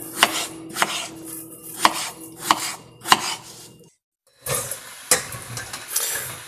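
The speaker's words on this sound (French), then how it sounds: "on passe à la découpe, donc en petits cubes, pas trop petits ni trop épais" Peeled potatoes being cut into small cubes on a board, a steady run of close, sharp knife chops with a brief pause before the chopping resumes, no voices.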